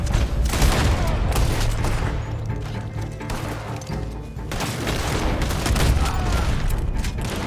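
In a video game, a handheld shotgun fires in rapid, booming blasts, packed close together with crashing impacts. The loud bursts keep coming with only brief lulls.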